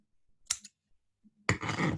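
Scissors snip the end of a palm frond loop being bound for a lulav ring, giving a brief sharp cut followed by a short rustle of the leaf, close and clear in a quiet room.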